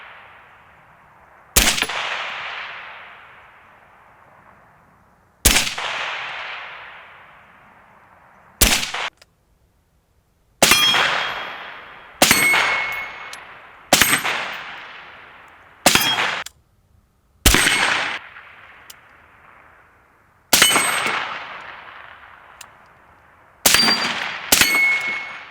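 A gun fires at a steel shooting range target in winter, each sharp shot followed by a ringing metallic clang that decays, spaced irregularly across about ten shots, loud and close.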